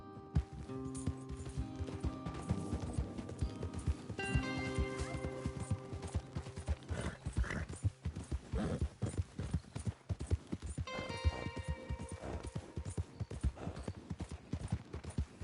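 Horse hooves clip-clop at a gallop in Red Dead Redemption 2, a continuous rhythmic patter of several horses riding together, with a brief whinny and steady game music underneath, close and fairly loud throughout.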